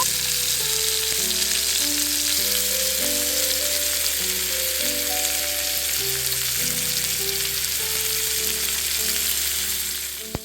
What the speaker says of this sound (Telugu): ఇలాగా ఫిష్ ఫ్రై అయితే చేసుకుంటున్నాను